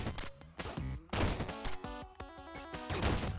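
In Downwell, gunpowder blocks burst and spray bullets in a rapid string of crackling pops and chiptune-like blips, bursts layered over each other at moderate volume.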